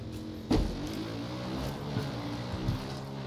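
A car passes in Far Cry New Dawn, a steady engine hum holding at moderate level throughout, with a few soft thumps rising over the drone.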